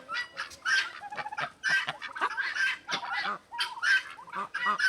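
A male Bourbon Red turkey and chickens on a farm give a busy mix of clucks, chirps and short calls. The overlapping bird voices sound close and fairly loud with no talk.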